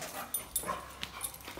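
A small dog whimpers and yips faintly in brief, soft bursts, close but quiet against a noisy indoor background.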